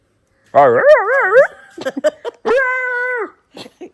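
A voice imitates a dog, with a wavering drawn-out whine followed by short yelps and a second sustained howling whine, close and fairly loud with brief pauses between.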